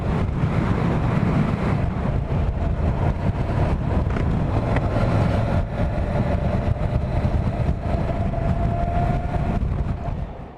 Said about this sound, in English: give you a sample now of what the bike sounded like before I did anything to the exhaust